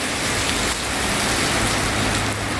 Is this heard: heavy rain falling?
yes